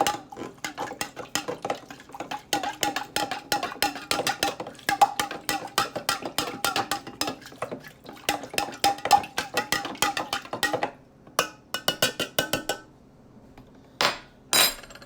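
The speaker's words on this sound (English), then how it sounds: "I'm going to start stirring it up here." A spoon stirs a homemade Everclear hand sanitizer mixture, clinking in quick, steady rhythm against the container for about eleven seconds, then a few scattered taps before it stops.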